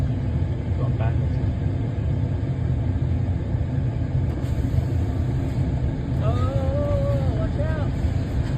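A train with several cars backs slowly along the tracks, making a steady, close, low rumble throughout, with a few high wavering tones late on.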